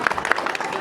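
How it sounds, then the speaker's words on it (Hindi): A brief burst of crowd clapping at a public gathering, dense and close, many hands at once, lasting under a second. "एक बार जोरदार ताली बजाइए।"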